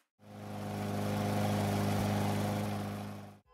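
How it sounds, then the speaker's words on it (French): A lawn mower engine runs in a garden, a steady close mechanical drone that swells in, holds evenly for about three seconds, and cuts off. "C'est le bruit de la tondeuse à gazon"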